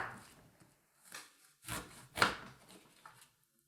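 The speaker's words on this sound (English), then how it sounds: "cut our cucumber into strips using the claw technique" A knife slices a cucumber into strips on a cutting board, giving a few quiet, separate cutting strokes with short gaps between them.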